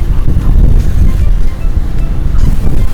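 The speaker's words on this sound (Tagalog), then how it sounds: "Ang lakas talaga ng hangin, tinan mo parang bagyo." Strong wind roars and buffets the microphone continuously, a heavy low rumble with gusty surges and no voices.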